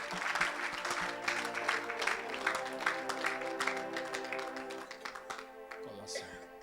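A church congregation at an evangelical service bursts into sustained applause, dense and continuous with cheering voices mixed in, gradually thinning toward the end.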